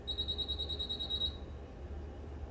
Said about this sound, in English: Heard 4 or 5 beeps.